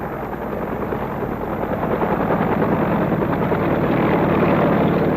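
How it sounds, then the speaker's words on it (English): A helicopter's rotor thrums steadily, a dense continuous chopping roar that grows slightly louder toward the end. "Helicopters must get in quickly and get out again before that hour is up."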